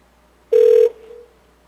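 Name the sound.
telephone ringing during an outgoing call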